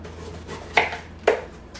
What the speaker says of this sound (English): So all I'm going to do now is start dicing.